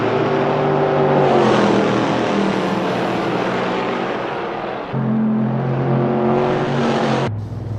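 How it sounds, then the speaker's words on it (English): A GT3 race car engine in a sim-racing event roars loudly and close, its pitch shifting as it revs, then dropping abruptly near the end as the car spears off track. "we've just heard a car spearing off in the background"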